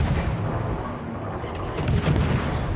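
Heavy naval gunfire from a warship firing armour-piercing shells at a Colombo cruiser in World of Warships, a dense continuous rumble of booming shots that swells louder near the end, with no talk.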